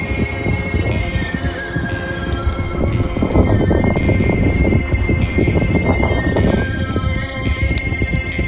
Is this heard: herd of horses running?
yes